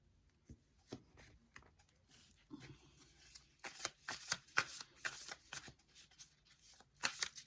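A deck of tarot cards shuffled by hand at close range, with quick riffling bursts and soft slaps that build into a denser run of shuffling, no voices.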